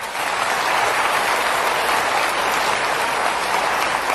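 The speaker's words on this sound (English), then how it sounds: "Give them a good clap." Steady, dense applause from an audience fills the whole stretch at even loudness, with no talk over it.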